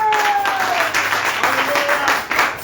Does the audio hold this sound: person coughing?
no